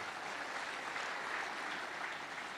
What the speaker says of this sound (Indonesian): Sekali tepuk tangan bagi kita semua